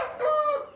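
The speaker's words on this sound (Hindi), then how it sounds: "ये रहा मुर्गा माशाल्लाह।" A white Shamo show-winning rooster gives a short, loud, close cluck that rises into a brief crow-like call.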